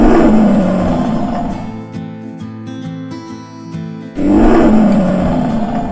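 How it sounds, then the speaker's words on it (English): A lion in a CGI animated story roars loudly while attacking oxen, with a long sustained growl under a tonal musical passage and heavy roaring bursts at the start and end. "Then the lion attacked them one by one and soon made an end to all 4."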